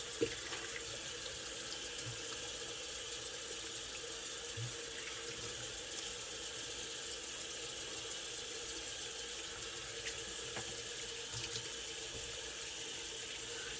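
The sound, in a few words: water running from a tap while rinsing off during a shave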